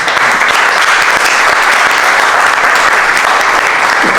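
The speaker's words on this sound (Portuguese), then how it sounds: "Palmas para eles" A stand-up comedy audience in Portugal breaks into loud, dense applause that holds steady and close for the whole stretch, with no talk on top.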